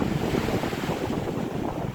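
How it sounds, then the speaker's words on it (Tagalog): Strong ocean waves at a family beach roll in as a loud, continuous rushing wash, with heavy wind buffeting the microphone throughout. "kaya lang ang lakas ng alon"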